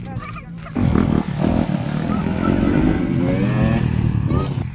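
A motocross bike accelerates on a dirt track, its engine a loud, steady buzzing roar that rises and holds close by for several seconds after a brief quieter start.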